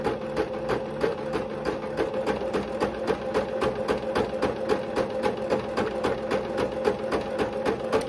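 A sewing machine stitches a channel along glittery pink tutu socks, running steadily with a fast, even rhythmic clatter, close and continuous with no talking.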